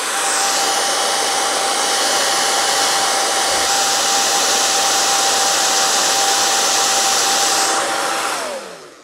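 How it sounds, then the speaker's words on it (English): A hair dryer blows with a steady, loud whooshing hum and a high whine, running continuously before switching off at the end. "I have a hairdryer sitting to the side. I'm going to turn it on"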